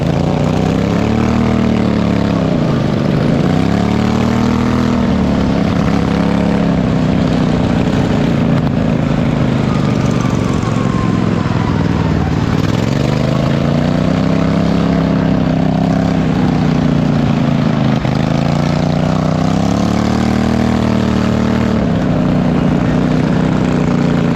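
Several racing lawnmower engines roar at a county fair track, a loud continuous drone whose pitch rises and falls in sweeping waves as the machines accelerate and pass, with no talk.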